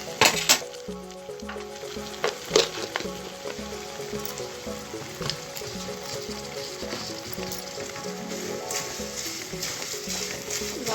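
Ground coriander, pepper and cumin powder frying in hot oil in a pan for prawn pickle, a steady close sizzle with occasional stirring clinks and scrapes throughout.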